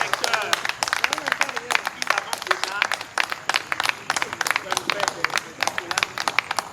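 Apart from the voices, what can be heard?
audience applause and clapping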